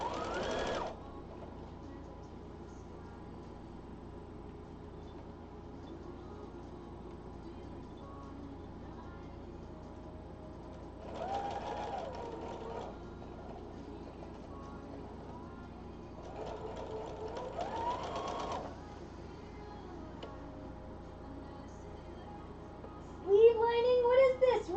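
A sewing machine stitches a sleeve lining in three short bursts of fast whirring between long quiet stretches, with faint background hum and a brief voice near the end.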